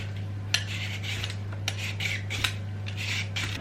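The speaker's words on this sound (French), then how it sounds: "maintenant je vais m'occuper de la patate douce. Je vais simplement commencer par l'éplucher" A sweet potato being peeled in a home kitchen: soft, repeated rasping scrapes with a few sharp metallic clicks, near and steady over a low background hum.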